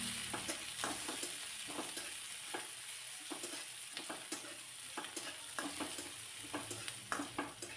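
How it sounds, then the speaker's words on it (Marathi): Finely chopped onion sautés in a pan until lightly reddened, an even sizzle punctuated by regular scraping strokes of a spatula across the pan, close and steady with no speech. "थोडासा लालसर कलर येईपर्यंत कांदा परतून घेतला"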